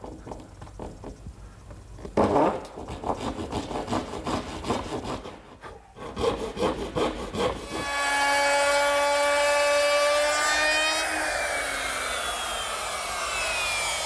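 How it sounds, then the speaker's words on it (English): A dovetail saw cuts wood around the legs of a shelf in quick, rhythmic rasping strokes close by, with a brief pause partway. A steady, high mechanical whine with a falling tail then takes over. "Now to make that cut, I'm going to use my dovetailing saw and go around to each leg"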